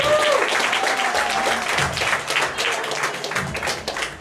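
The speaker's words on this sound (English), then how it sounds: "I think we should all clap." A crowd claps warmly at the closing of an art show, steady applause with a few voices faintly mixed in beneath it.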